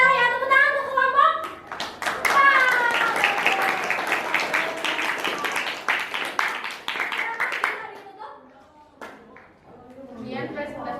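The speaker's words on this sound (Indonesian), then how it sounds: "tepuk tangan untuk kelompok" Classroom applause for a presenting student group, a burst of many hands clapping for several seconds, close and lively, with voices calling out and talking under and after it.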